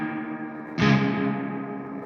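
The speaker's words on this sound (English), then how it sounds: "Now we're going to go to the reverb." Guitar played through the reverb effect of a Sonulab Stompstation pedal: a sustained chord is struck partway through, with a distorted, shimmering tone that rings out and slowly decays in a long reverb tail.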